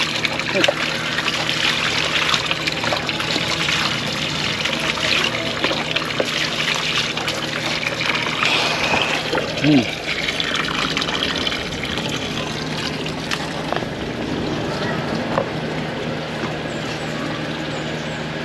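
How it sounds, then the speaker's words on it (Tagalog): A weak stream of tap water trickles and splashes unevenly for a long stretch, with a brief heavier gush midway and people talking nearby. "Kahina na yung tubig natin"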